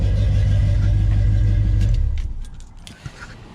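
A loud 1985 Chevrolet K20 square-body truck engine rumbles steadily up close, then is shut off and dies away within about two seconds, leaving near-silence and a small click.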